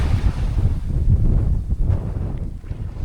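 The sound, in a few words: strong wind at a seaside viewpoint in the Scottish Highlands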